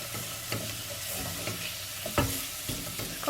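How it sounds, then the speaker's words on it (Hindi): Fennel and carom seed powder dry-roasting in a pan, with brisk scraping stir strokes and a soft sizzling hiss, close and fairly loud over a few seconds. "सौंफ और अजवाइन का जो मैंने पाउडर बना के रखा है। बिस्मिल्लाहिर्रहमानिर्रहीम। इसको थोड़ा सा भूनना, थोड़ा सा बस।"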